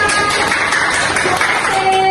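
A classroom audience gives brief applause for student actors after an improvisation and reader's theatre activity, a dense, steady patter of clapping filling the short moment.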